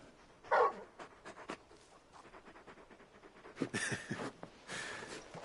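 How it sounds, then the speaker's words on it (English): A very big dog in the video game Final Fantasy XVI pants in quick breathy bursts, with a few soft whimpers and rustling movement, fairly close and quiet, with no speech. "You're just a big puppy, aren't you? A very big puppy."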